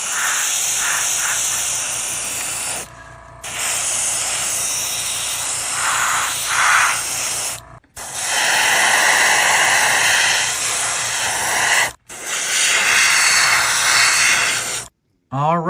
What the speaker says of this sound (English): We have sprayed everything with a gray once again.